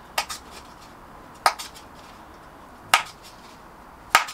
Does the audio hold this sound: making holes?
yes